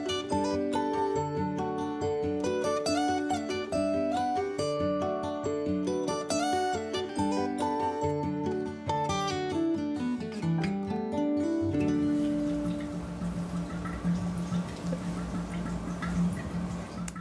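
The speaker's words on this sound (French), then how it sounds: "c'est le chant des fermentations, le chant des vins en formation justement" Wine fermenting in vats in a Colmar cellar, bubbling steadily through the bungs as a dense, fizzing texture after a stretch of music fades out.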